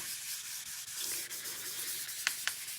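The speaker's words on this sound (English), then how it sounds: "And now I'm just taking the same side here and burnishing that transfer on there." A tool rubs firmly back and forth as a rub-on transfer is burnished onto wood, giving a soft, steady scratchy friction close by, with two brief sharper scrapes near the end.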